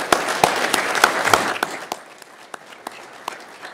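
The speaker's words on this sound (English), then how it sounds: "So let's give them a round of applause." An audience applauds a new Quincy Fire Department hiring class at a ceremony, with brisk clapping that starts dense and loud and then thins out into a few scattered claps as it dies away.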